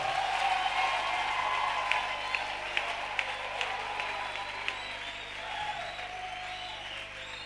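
A church congregation at a French-language seminar applauds and cheers the Lord in sustained, dense clapping with scattered louder claps, a steady roar of crowd noise filling the space without a break.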